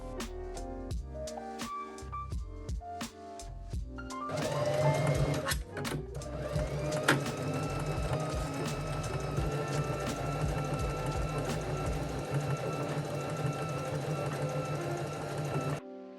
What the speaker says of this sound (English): So we have stitched both of those sides